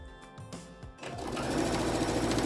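After a second of light fumbling, a sewing machine starts stitching through six layers of fabric, running as a steady, close, whirring drone to the end.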